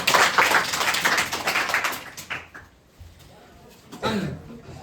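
A classroom of children claps for a classmate during a science revision lesson: dense, lively clapping for about two and a half seconds that quickly thins and dies away, followed by a brief burst of noise near the end.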